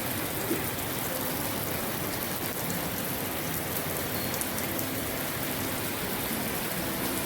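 Heavy rain pounds a rooftop in a thick, unbroken roar of drops, loud and close, holding at full strength throughout without any talking.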